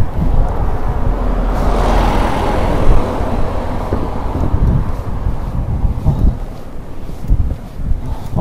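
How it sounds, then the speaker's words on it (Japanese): A bus passes on a rural road on Nakadori Island in the Goto Islands, heard as a sustained broad roar that swells and fades over several seconds, mixed with heavy wind buffeting on the microphone. "あ、こっちがバス通ってるのか。"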